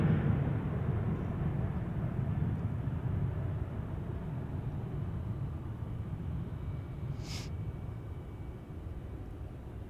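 A Prime Air airplane rolls for departure at Albuquerque airport, heard as a distant broad roar that slowly fades away. A brief faint chirp sounds near the end, and no one speaks.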